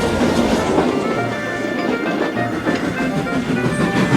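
An animated steam train rolls steadily along the track with a continuous rumbling roar and faint rhythmic clatter of wheels, fairly loud and close.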